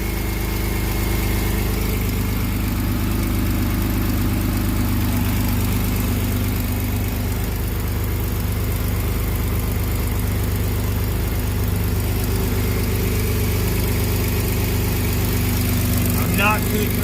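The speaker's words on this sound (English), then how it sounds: "The engine sounds really good, other than the exhaust leak." A 2006 Grand Prix 3.8L V6 idles with a constant low rumble and steady hum, a faint ticking rasp from an exhaust leak riding on the exhaust note.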